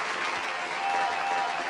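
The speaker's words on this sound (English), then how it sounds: "let me give you a round of applause" Steady applause from a group of people, dense continuous clapping at even loudness throughout.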